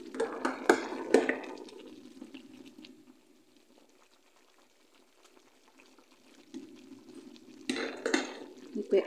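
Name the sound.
stirring chicken in a cooking pot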